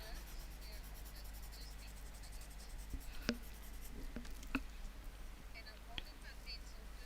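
Makeup pencil lightly coloring sugar skull face makeup on skin, held far back for a light layer, giving a faint continuous scratchy rubbing with a few soft taps, close and quiet.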